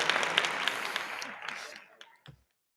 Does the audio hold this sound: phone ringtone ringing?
no